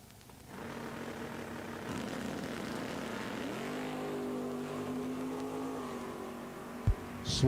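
Drag racing cars in a no box bracket class at Eddyville Raceway Park, one a big Mopar, rumbling at the line then revving and launching; a sustained loud engine drone that rises in pitch, with a sharp bang near the end.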